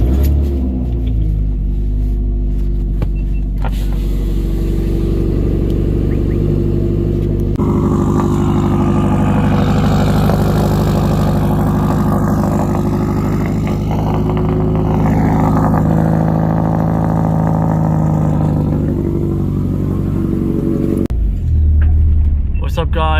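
A 400whp Subaru WRX hatchback starts cold in the early morning, its engine settling into a loud, steady rumbling idle with a rise in revs partway through, a voice talking over it.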